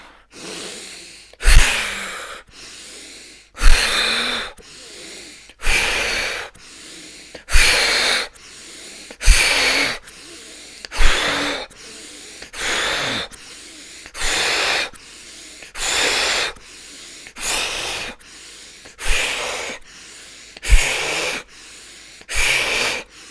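Deep breathing exercise from Tummo and Samavritti practice: about a dozen strong, evenly paced breath cycles, each a sharp loud inhale followed by a long hissing exhale, close and alone.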